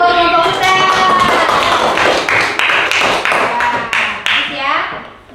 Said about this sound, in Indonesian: Beri aplaus buat kelompok hutan.